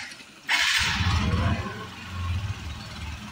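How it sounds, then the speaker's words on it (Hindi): A TVS Apache RTR 160 motorcycle exhaust starts abruptly after a brief quiet moment, then holds a loud, steady low rumble close by, with a slight swell in revs toward the end and no talking. "इसको एग्जॉस्ट को भी सुन सकते हो।"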